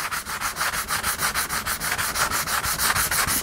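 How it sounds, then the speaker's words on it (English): Sandpaper rubs back and forth over gesso on a handmade hard cover notebook, close and rhythmic with about ten strokes per second-and-a-half, a dry scratchy swish repeating evenly. "Of course, I'm sanding off all my gesso."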